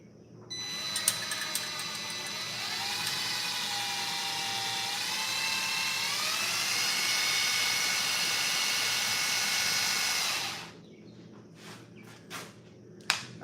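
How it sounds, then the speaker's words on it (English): A power drill whirs steadily for about ten seconds, its pitch rising partway through, then cuts off, followed by a few light clicks and taps. "I'll just take my drill,"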